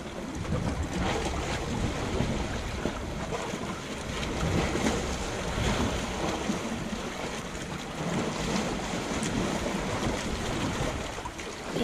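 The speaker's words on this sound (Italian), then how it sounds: "Il suono delle onde viene definito suono bianco." Sea waves wash and roar continuously, a broad rushing surge with gentle swells in loudness, mixed with some wind noise.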